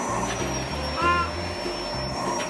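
A household vacuum cleaner drones steadily, fairly near, with a thin high whine, while voices talk briefly over it.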